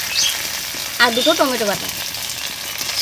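Onion and cumin paste fry in a pan with a soft, steady sizzle running throughout, while a voice speaks briefly over it in the middle.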